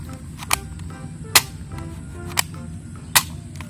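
A toy sniper gun fires four sharp, crisp clicks or snaps at uneven intervals, fairly faint over a low background hum.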